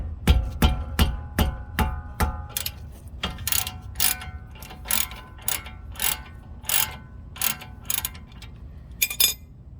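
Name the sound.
socket wrench ratcheting on Dodge Durango brake bolt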